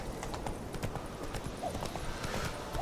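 Hooves of Roach, Geralt's horse in The Witcher 3, clip-clop in a steady rapid rhythm at close range, with a brief whinny-like sound near the end and no talking.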